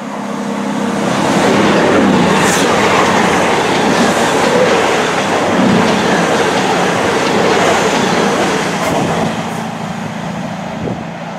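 An Avanti West Coast train diverted over the Northampton Loop via Long Buckby and Northampton, a loud, close, continuous rumble of passing carriages with faint clickety-clack over the rails, easing slightly near the end.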